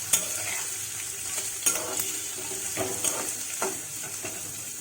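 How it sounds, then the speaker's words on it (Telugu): Onions and green chillies fry in hot oil in a pan for a bitter gourd curry, a steady close sizzle broken by a few sharp scrapes and clacks of a spoon stirring, with no talking. "ఉల్లిపాయ, పచ్చిమిరపకాయ వేసుకోవాలి. బాగా వేయించుకోవాలి."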